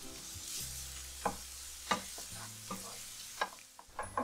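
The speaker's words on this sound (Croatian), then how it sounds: "Dok nam se lukić na početku prži" Onions sizzle softly in a pan for shakshuka, with a quiet, steady frying hiss broken by several sharp scrapes and taps of stirring, close and alone.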